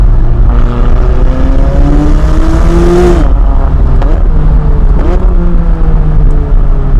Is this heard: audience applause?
no